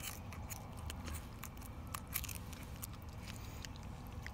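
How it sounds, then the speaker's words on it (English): A pair of scissors slices open the belly of a small trout, cutting all the way to the vent, giving faint, crisp snipping clicks over a quiet background with no talk. "Pair of scissors. Cut all the way to the vent."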